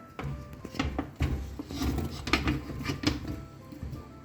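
Boiled corn, carrot, potato and onion go into a bowl, making soft irregular clatters, scrapes and taps of food and utensil against the dish, close and fairly quiet with no talking.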